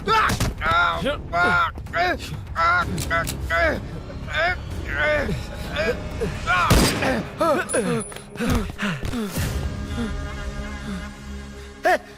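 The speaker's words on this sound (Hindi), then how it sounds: "गोली क्यों चलाई?" Gunfire in a Hindi-dubbed South Indian action film: several sharp shots ring out among shouting voices and a dense action soundtrack, loud and close, with one strong burst near the middle.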